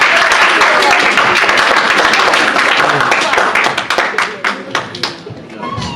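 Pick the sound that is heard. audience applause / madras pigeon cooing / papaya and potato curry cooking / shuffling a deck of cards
audience applause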